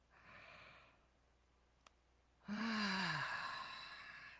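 A person fakes a yawn: a soft, breathy inhale, a brief pause, then a loud, drawn-out voiced exhale that slides downward in pitch and trails into breath.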